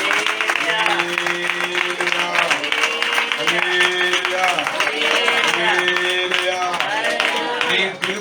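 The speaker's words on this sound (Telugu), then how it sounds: "గట్టిగా చప్పట్లు కొట్టిన ఒకసారి." Congregation at a Sunday worship service clapping loudly together, brisk and continuous, with music and singing underneath and a sustained dense texture throughout.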